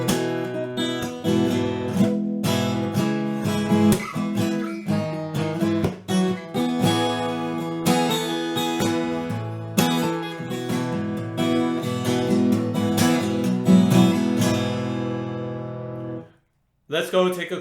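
An acoustic guitar plays the first chorus of a song, with a continuous run of plucked, ringing chords and melody notes for about sixteen seconds. It is close and clear, then cuts to near silence before a brief final strum.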